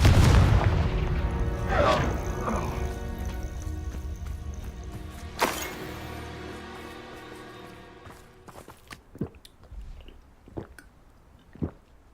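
A Confringo explosion spell in Hogwarts Legacy bursts as a heavy booming blast that rumbles and fades over several seconds, followed by a second smaller impact and scattered crackling debris settling.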